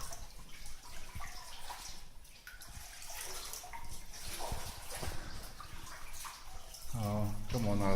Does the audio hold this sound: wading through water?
yes